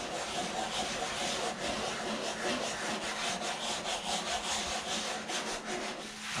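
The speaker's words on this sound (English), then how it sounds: "some fresh 80 grit, and what I'm going to do is go in a circular motion" Wood is sanded by hand with fresh 80 grit sandpaper in a circular motion, a continuous close rasping rub with a steady rhythmic back-and-forth texture throughout.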